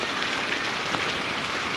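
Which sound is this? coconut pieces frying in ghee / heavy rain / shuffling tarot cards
heavy rain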